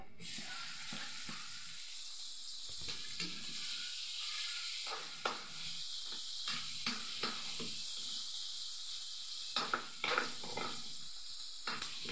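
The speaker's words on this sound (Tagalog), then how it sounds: "Gigisa ko na po ito. Para sa adobo." Chicken sizzles and hisses in a hot pan as it sautés for adobo, a steady close frying crackle broken by a few sharp clatters of stirring.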